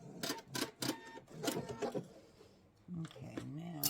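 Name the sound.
sewing machine stitching across fabric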